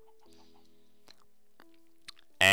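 A Minecraft chicken gives a few soft clucks in an otherwise quiet game scene, and a sudden loud burst of noise cuts in at the very end.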